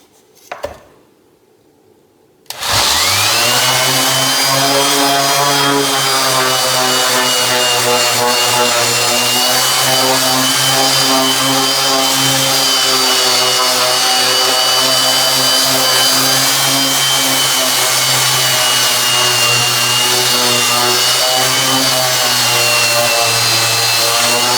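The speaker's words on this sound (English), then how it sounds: "I'm going to do a bit of sanding before we spray paint it" After a short quiet pause, a power sander starts up and runs loud and steady with a constant whine against a cedar wood carving.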